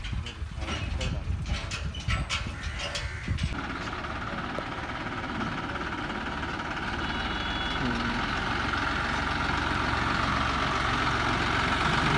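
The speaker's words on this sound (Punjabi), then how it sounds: "ਟਰੈਕਟਰ ਚੱਲਦੇ ਪਏ ਮੰਡੀ ਨੂੰ" Diesel tractor engines run in a steady, continuous drone as the tractors head to a Punjab grain market; a voice talks over the engine noise early on.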